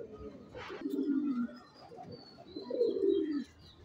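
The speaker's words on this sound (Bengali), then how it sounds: "আমাদের কবুতরের লফটে চলে আসলাম" Pigeons in a rooftop pigeon loft give soft, low cooing calls in two drawn-out phrases, close by and fairly quiet, with a faint chirp and light rustling between them.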